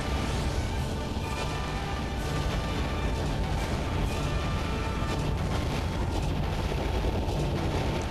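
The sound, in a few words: cannon shots and blasts in the video game Star Fox Assault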